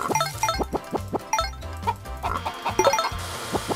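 Chickens clucking in the farm game Meine kleine Farm 4, a busy run of short clucks and bird calls over light background game music, close and steady.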